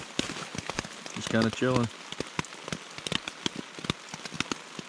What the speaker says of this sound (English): But pouring rain outside.